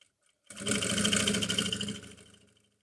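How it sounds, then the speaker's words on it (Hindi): A sewing machine stitches trousers in one steady close burst lasting about two seconds, starting abruptly and tapering off at the end, with no talking. "तो इस तरह से ही मैं सिलाई को भी कंप्लीट कर लूँगी।"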